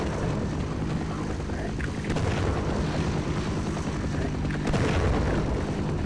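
A low, rumbling wash of noise with dull booming swells, like distant blasts and engine drone in Half-Life on PC, continuous and fairly loud.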